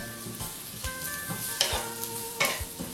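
Carrots frying in oil in a pan hiss with a steady sizzle, and a few sharp scrapes from stirring break through. The sound is close and quiet, with no talking.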